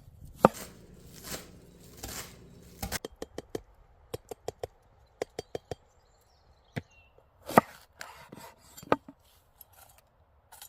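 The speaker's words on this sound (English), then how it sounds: "while I can barely cut this onion" A knife chops through an onion on a board in sharp, uneven strokes: short clusters of close taps with pauses between, clear and near, no talk.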